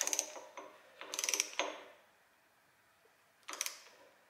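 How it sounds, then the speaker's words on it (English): A small torque wrench ratchets on 12 mm bolts of a 2JZ engine during a build, in three quick, close clicking bursts separated by quiet pauses, with no talking. "So borrow my buddy's little torque wrench here"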